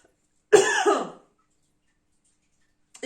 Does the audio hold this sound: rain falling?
no